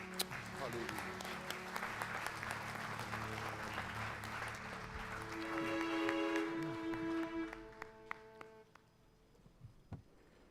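Applause from a church congregation at an evening service, dense clapping that swells and then thins out into scattered claps, with voices speaking underneath.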